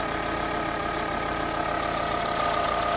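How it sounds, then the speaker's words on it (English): A Suzuki SX4 engine runs steadily nearby with a slightly noisy alternator, a constant droning hum with a faint whine and a fine rattling texture throughout. "Alternator sounds a wee bit noisy, but hopefully that will quiet down."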